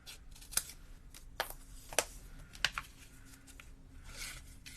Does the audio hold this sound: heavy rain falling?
no